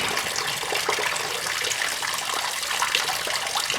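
Engine coolant from a 2008-2014 Subaru WRX/STI pours steadily into a drain pan as a loud, close, continuous splashing gush with no pauses.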